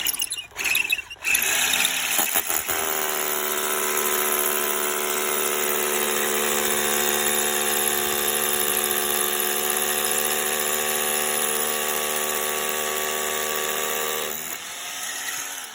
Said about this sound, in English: I want to start drilling my hole.